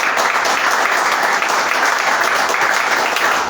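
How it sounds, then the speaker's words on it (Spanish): A church congregation claps loudly and continuously, a dense close wash of applause filling the whole few seconds. "¿Cuántos pueden darle un fuerte aplauso a su Dios?"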